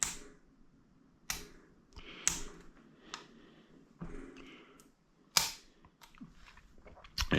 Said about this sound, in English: So I'll cock this again.